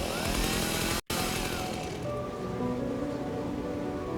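A loud, buzzing cartoon chainsaw-hand roar with a raspy, revving quality, cutting out abruptly for an instant before resuming and settling into a steadier drone.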